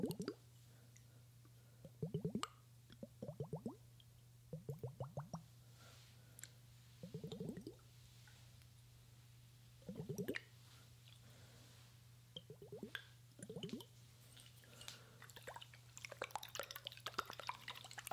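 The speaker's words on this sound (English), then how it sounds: "I know I've used these water globes quite a few times, but we need to use them on this microphone." Soft liquid squishes and wet drips from water globes handled close to a high-end ASMR microphone, arriving in short bursts every couple of seconds over a faint steady hum.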